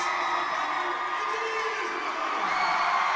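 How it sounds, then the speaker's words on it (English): A gym crowd at a boys' basketball semifinal cheers and shouts in a sustained, fairly loud wash of voices, with whoops rising above the roar and a slight swell near the end. "Crowd has been very, very vocal, Harold. Both sides of the gym, they've really enjoyed this."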